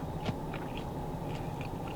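Someone chews crispy fried flounder close up, with soft, irregular crunching and biting sounds and no talking.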